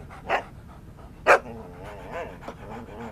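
A pet dog gives two sharp barks close by, separated by a pause, with whimpering and panting between and soft talk underneath.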